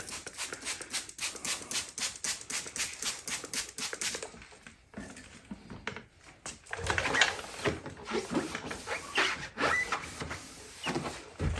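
Sandpaper is rubbed by hand over a car headlight lens in quick rhythmic back-and-forth strokes. The strokes are close and scratchy, then become rougher and more uneven in the second half.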